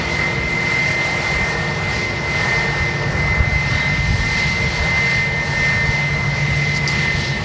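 A British Airways Airbus A320 departs for London Heathrow, its engines a loud, sustained roar with a steady high whine, continuous throughout.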